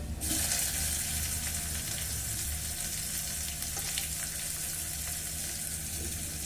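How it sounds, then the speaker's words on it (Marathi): Onion and tomato frying with ginger, garlic and chilli for a spiced lentil dal, giving a continuous close hissing sizzle with occasional faint stirring clicks, steady throughout and free of speech. "आलं लसूण लसूण आणि मिरची सगळं चांगलं भाजून घ्यायचं"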